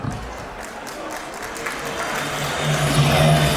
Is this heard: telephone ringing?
no